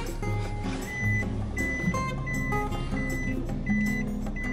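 A large truck on Savai'i, Samoa, sounds repeated electronic beeps, like a reversing alarm, at a steady interval over a constant low engine rumble. The beeps are moderately close.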